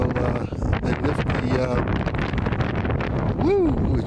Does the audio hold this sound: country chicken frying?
no